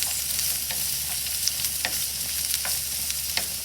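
Vegetables fry in oil in a pan, giving a steady close sizzle with scattered crackles and pops throughout.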